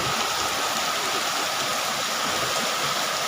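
Afternoon rain falling in a village in Bangkok, Thailand, a steady, dense hiss of rainfall on surfaces, continuous and fairly loud with no break.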